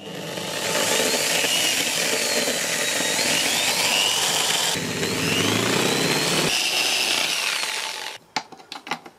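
A 12mm drill bit boring into a plastic project box, a loud continuous grinding whir that runs steadily for about eight seconds, then cuts off into a few short scraping bursts.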